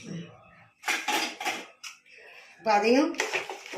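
Metal utensil scrapes and clanks against a pot of bottle gourd kuzhambu in bursts, with a person speaking briefly between the stirring sounds.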